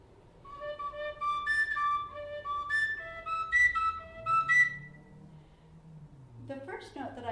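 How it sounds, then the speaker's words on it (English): An Irish tin whistle in D plays a few clear notes, then jumps to higher, overblown notes an octave up, each tone bright and sustained. "an Irish whistle. When I overblow a note,"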